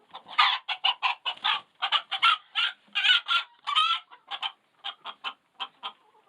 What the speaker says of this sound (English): Here's our Polish rooster.